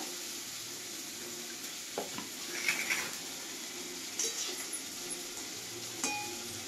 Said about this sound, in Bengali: তেল গরম হয়ে গেছে, আমি গরম মশলা দিচ্ছি, আর একটা আছে সঙ্গে তেজপাতা।